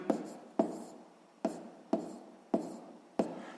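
Pen strokes on paper while working a sixth-grade maths exercise, a handful of short scratchy bursts spaced about half a second apart, close and quiet.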